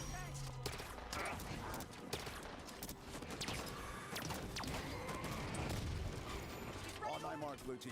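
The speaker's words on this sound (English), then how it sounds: "Dancing around incineration cannon shots." Halo 5 combat fills the clip with rapid bursts of gunfire, heavy incineration cannon blasts and mechanical clatter, mixed with a game voice calling out.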